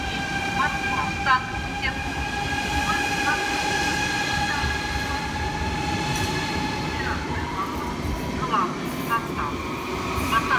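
Steady rumbling of a Russian Railways Sapsan high-speed train at a platform with high tonal whines and squeals, moderately loud, with faint station background.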